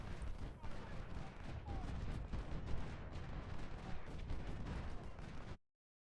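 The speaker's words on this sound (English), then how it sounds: "My artillery is in position, hitting him with canister and driving him back." Civil War artillery firing canister shot in the Ultimate General: Civil War strategy game, a dense, continuous barrage of booming cannon and crackling musketry that stops abruptly near the end.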